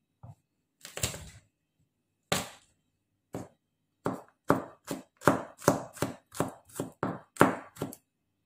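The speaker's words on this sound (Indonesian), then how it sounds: "Nah, ini kita geprek aja lalu kita iris seperti ini." Garlic and shallots are crushed and then sliced with a kitchen knife on a board: a few heavy thumps, then a quick run of about a dozen crisp, evenly spaced chops, close and clear with no talking.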